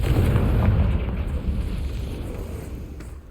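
A Confringo fire spell explodes in the Hogwarts Legacy video game on PS5: a loud, close boom with a heavy rumble that stays strong at the start, then slowly fades over a few seconds, with no voices.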